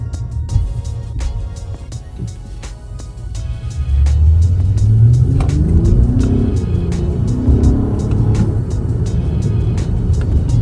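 An Acura RLX engine in sport mode revs up and accelerates, its low rumble rising in pitch and growing louder, then holding a steady, strong drone.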